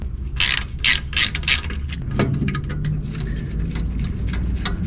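A ratchet turns out the T30 screw holding the front brake disc on a 2008 Smart Fortwo 451, with several loud, quick clicking bursts followed by softer metallic turning and creaks, close up and with no talk.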